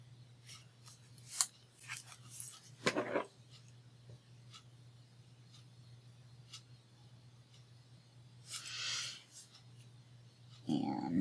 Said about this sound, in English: So we're going to cut this like this.